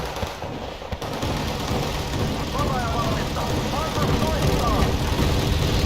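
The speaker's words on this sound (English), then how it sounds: "they immediately dropped a Nighthawk on me and a load of arty. And mortars." Battle sounds from the Wargame Red Dragon game: a continuous dense roar of gunfire and explosions from an air strike and artillery barrage, loud and sustained, with a person talking over it.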